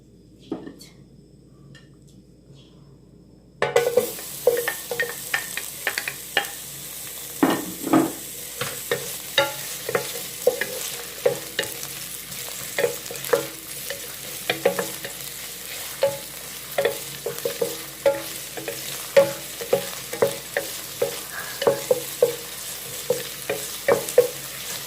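Oil sizzles in a pan as a bottle gourd and corned beef sauté is stirred, with frequent scraping and clattering strokes over a continuous fry.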